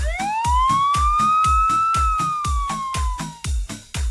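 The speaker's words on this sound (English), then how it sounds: "police car." A police siren wails steadily, its pitch gliding slowly up and then down, with a rapid pulsing throb beneath it. The siren is loud and close.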